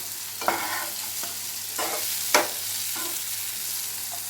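Bitter gourd slices fry in a pan with a steady close sizzle, broken by several sharp scraping stirs as the pieces are turned over and over.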